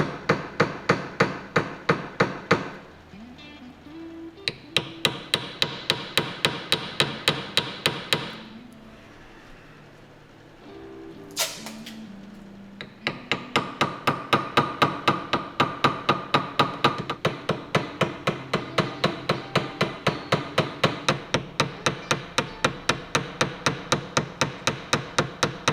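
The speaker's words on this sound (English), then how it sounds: "then we'll start putting the silver pins in and doming them" A hammer doming silver pins in a knife handle, rapid steady close metallic taps in long runs with one short pause midway and no talk.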